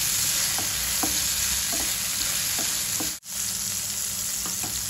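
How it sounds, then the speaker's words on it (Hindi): Tomatoes with salt sizzle steadily in a frying pan at close range, with light stirring clicks and scrapes scattered through and no talk. "मैंने टमाटर पहले से डाला है कि थोड़ा सा ये सॉफ्ट हो जाए टमाटर।"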